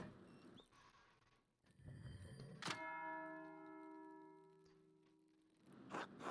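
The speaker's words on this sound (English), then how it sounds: "That's the bell for Sext." A single abbey bell in the Pentiment video game is struck once for Sext, a clear bright tone that rings out and slowly decays after a soft thump and some faint background noise.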